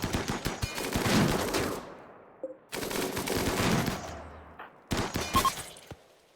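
Striker turrets fire in the RimWorld video game in three dense bursts of rapid automatic gunfire, each cutting off abruptly into brief silence, loud and close.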